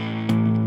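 Electric guitar through a Rat distortion pedal set to turbo. A sustained, buzzing, fuzz-edged chord rings steadily, then a fresh pick attack halfway through brightens it briefly.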